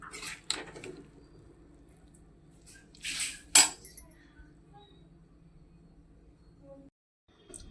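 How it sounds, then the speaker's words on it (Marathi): Cooked corn and soybean rice is served from a pressure cooker onto a plate, with a few scattered metallic clinks and scrapes of a spoon against cookware, quiet between strokes. "आता तो आपण एका प्लेटमध्ये काढून घेऊया"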